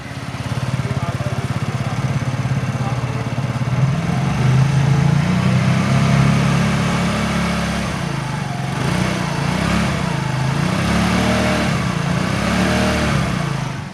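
An imported automatic scooter idles after its self-start button is pressed, a steady, close engine putter running throughout with slight pulsing revs partway through and someone talking over it.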